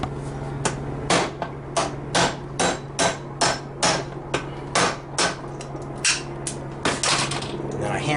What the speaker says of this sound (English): And then I hammer it off like this